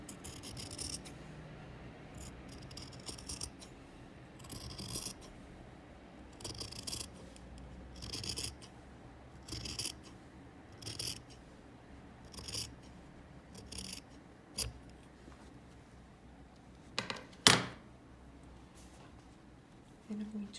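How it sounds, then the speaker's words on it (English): Scissors trimming a fabric seam allowance down to about 3mm, a series of short crisp snips repeating every second or two, close and fairly quiet, with a sharper louder cut near the end. "I'm going to trim it all the way up."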